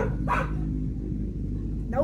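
A dog barks in two short bursts, near and loud, over the steady low rumble of a motorbike driving past.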